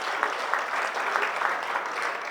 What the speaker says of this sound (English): Give her a big round of applause for helping out.